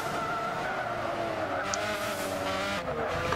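Race car tires skid and squeal through corners of the Monaco circuit in Gran Turismo 6, an Alfa Romeo 155 DTM engine droning steadily beneath a continuous loud screech with no voices.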